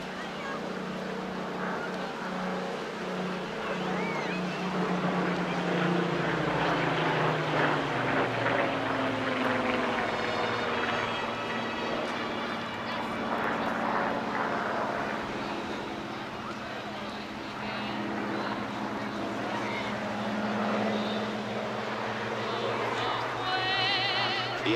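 A Hawker Hurricane, the last one built, first flown in 1944 and operated by the RAF Battle of Britain Memorial Flight, flies at the Clacton Airshow, its propeller engine a steady, loud drone that rises and falls slightly throughout.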